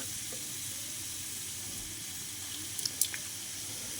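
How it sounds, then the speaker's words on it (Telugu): Onion and green chilli pieces deep frying in hot oil for a village-style spicy chicken kurma, giving a steady, soft sizzle close by with a few brief clinks near the end. "ఉల్లిపాయ ముక్కలు, పచ్చిమిరపకాయ ముక్కలు ఇవన్నీ దాంట్లో ఆయిల్లో వేసి డీప్గా ఫ్రై చేసుకోవాలి."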